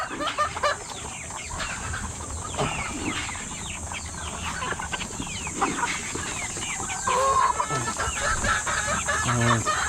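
Chickens, including fighting cocks, cluck and a rooster calls intermittently, with occasional wing flaps and other scattered farmyard sounds, close by.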